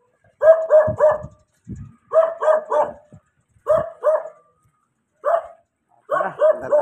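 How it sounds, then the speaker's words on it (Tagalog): A dog barks in a village street near a church, sharp barks coming in quick clusters of two or three with pauses between, close and loud, and a few whimpering yips mixed in. "Ayun, may aso."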